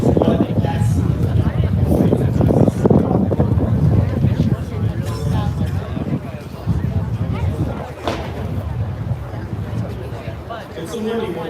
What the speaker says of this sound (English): It's a windy one, man.